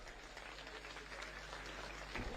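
Applause from an election rally crowd: a dense, steady wash of clapping held at a fairly even level throughout, with a slight swell near the end.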